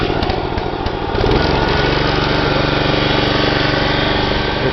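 A John Deere 14SE self-propelled lawn mower engine runs loud and close, starting rough and then settling into a steady buzzing drone after about a second.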